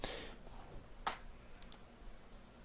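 A computer mouse on a Windows Vista PC gives one sharp, close click, followed by a couple of faint quieter clicks against a quiet background.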